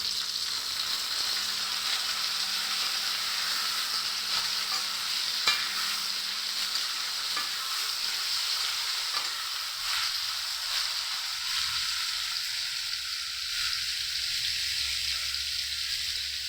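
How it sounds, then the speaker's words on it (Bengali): Boiled jackfruit and potato frying with onion in a pan, a steady soft sizzle with occasional stirring scrapes, fairly quiet and continuous with no talking. "এখন এটাকে আমি ভেজে নিব পেঁয়াজের সাথে।"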